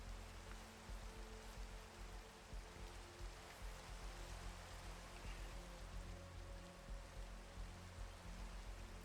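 Rain falls steadily in the video game Minecraft, a quiet, even hiss of drops spread across the whole clip with no talking over it.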